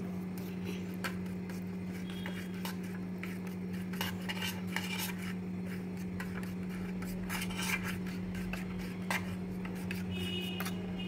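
A spoon mixes chocolate syrup sauce for an Oreo ice cream dessert, with quiet repeated scraping and clinking against a bowl over a steady hum.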